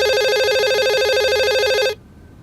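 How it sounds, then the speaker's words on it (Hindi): A phone rings with a steady electronic warbling tone, repeating rapidly for about two seconds before cutting off abruptly into near silence. "अब इस फोन को कोई उठा लेगा या फिर ये भी आके मैं ही उठाऊं?"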